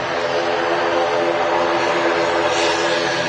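Close by at Manchester Airport, an ATR turboprop airliner taxis past, a loud, steady propeller drone with a constant roar and no break.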